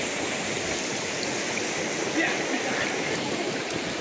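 Strong river current rushing at high water level, a continuous broad roar of flowing water filling the scene evenly, close and loud with no clear breaks.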